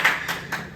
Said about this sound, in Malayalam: ഇതൊക്കെ കൈയടിക്കാം